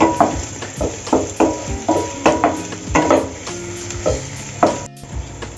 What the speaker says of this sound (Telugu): కరివేపాకు కూడా వేసుకొని దాన్ని కూడా వేపుకోవాలండి